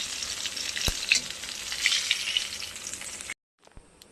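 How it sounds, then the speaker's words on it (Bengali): A large fish head fries in hot oil, giving a dense, bright, continuous sizzle with faint spits and one sharp tap, before the sound abruptly cuts to near silence. "দেখুন, দেখুন ভাজছে"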